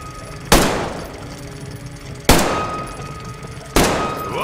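Three loud, close gunshots ring out from a weapon in the video game Metro Exodus, spaced about two seconds apart, each a sharp crack followed by a short decaying echo over a quiet background hum.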